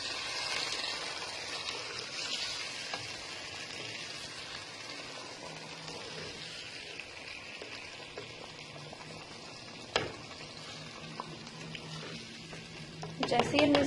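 Potato curry (aloo ki katlian) is stirred with a spatula in a pan just after water is poured in, giving a steady bubbling sizzle with soft scraping and a few sharp clinks of the spatula against the pan.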